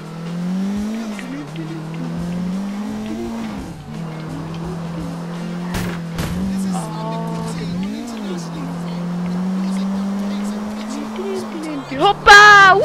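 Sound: car driving on motorway in GTA IV video game

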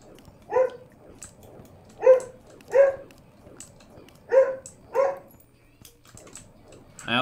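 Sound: dog barking

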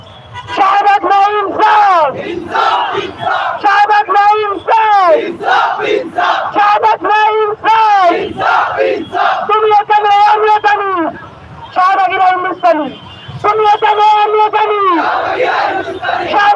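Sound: crowd chanting political slogans

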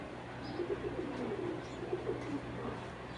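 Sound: army pigeon cooing

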